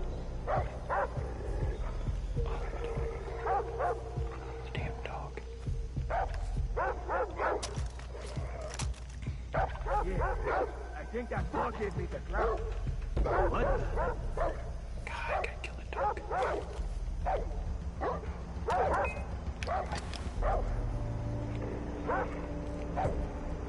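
A dog in Far Cry 3, with repeated sharp barks and yips scattered through a long stretch amid outdoor ambience, gunfire-like clatter and a voice talking.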